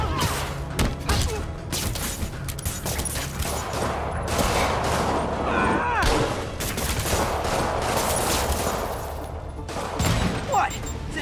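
Rockets are fired at the player in a Spider-Man video game, producing dense, loud bursts of blasts and crackling explosions that keep going almost without a break.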